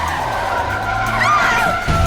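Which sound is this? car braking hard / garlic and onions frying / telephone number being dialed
car braking hard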